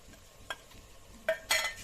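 Faint frying in a pan while cooking tomato bath, with soft sizzle under a few short scraping stirs at irregular moments, close and quiet with no talking.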